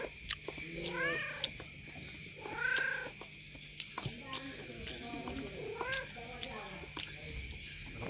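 Several cat meows, rising and falling, close by and fairly loud, with short pauses between calls and a faint background hum.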